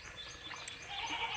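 Goats bleat faintly in a rural farmyard, a soft distant call set against quiet outdoor background noise, no talking.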